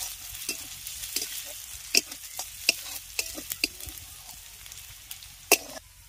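Ginger, garlic and onion frying in a pan, a soft steady sizzle broken by sharp scrapes and clacks of stirring at irregular intervals, close by.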